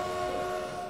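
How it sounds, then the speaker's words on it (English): A steam-era train in the Transport Fever video game sounds a steady, loud horn or whistle with a sustained tonal blare over a rumbling rail background, heard alone for about a second. "Right, let's put this train on."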